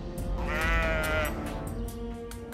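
A sheep bleats loudly and close by in one long wavering call, followed by quieter rustling and ambient noise, with no speech.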